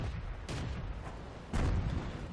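Tank cannon fire in World of Tanks, two or three broad booming blasts with rumbling tails over a constant low engine drone, fairly faint overall.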